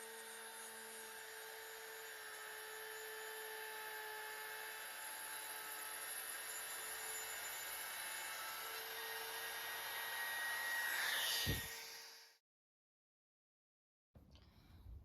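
An Alloyman router cuts a groove across a piece of wood in a fixture, a loud, steady high-pitched whine that rises near the end, then cuts off abruptly into silence before faint noise returns.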